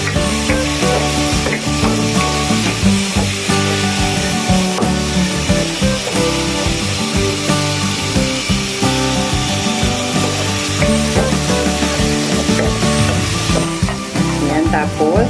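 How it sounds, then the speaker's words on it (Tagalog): Squid adobo stirred in a hot pan until browning, a loud continuous sizzle with steady scraping and rubbing of the spatula against the pan, no voices. "Halu-haluin lang po natin hanggang sa medyo mag-brown"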